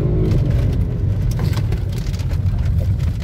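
A Mercedes C230 V6 car drives along with a steady low engine and road rumble filling the cabin, continuous and fairly loud with no talk.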